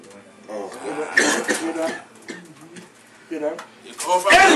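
Several loud, harsh coughs and throat-clearing bursts from a man, close up, mixed with rough voices talking over them.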